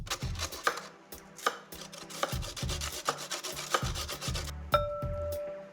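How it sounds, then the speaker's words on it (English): A carrot grated by hand in repeated rasping strokes, about eight evenly paced passes close up with a low thud at the bottom of each stroke, followed by a brief metallic ring at the end, no talking. "And I'll grate the carrot"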